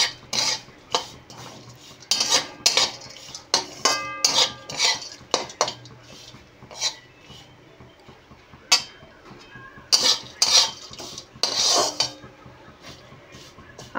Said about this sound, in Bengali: শেষে আমি চিয়া সিড ও সাদা তিল দিয়ে আরও কিছুক্ষণ ভেজে নেব